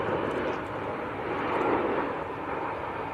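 An EasyJet Airbus A319 passes over Manchester Airport, its broadband engine roar steady and moderately loud for the whole stretch, swelling slightly midway and with no talk over it.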